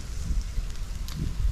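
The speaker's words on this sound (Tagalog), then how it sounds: "Maririnig mo lang hangin. Kaluskos ng hangin." Outdoor wind gusts buffet and rustle through a wooded place, low rumbling wind noise with soft rustles, steady and close, without voices.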